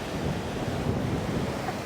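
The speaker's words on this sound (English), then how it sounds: "The sound of the waves," Continuous rush of ocean surf at an Indian beach with wind buffeting the microphone, a steady, full wash of sound with no voices.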